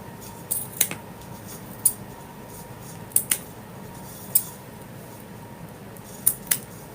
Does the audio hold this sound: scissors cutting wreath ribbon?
yes